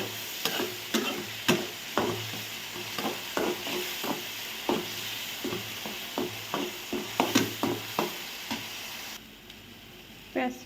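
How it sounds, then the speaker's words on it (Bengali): Chopped onions and green chilies sizzle in hot oil in a pan for fish curry, with a steady frying hiss broken by regular scraping stirs of a spatula. "পেঁয়াজ মরিচ দিয়ে দিলাম, একটু ভাজা নেব।"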